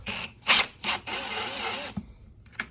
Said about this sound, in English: Next, I'm going to pull out the motor bolts.